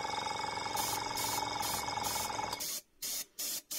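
An airbrush gun sprays from a tankless compressor pump: a steady, loud hiss that holds for a few seconds, then breaks into short pulsing bursts separated by gaps near the end.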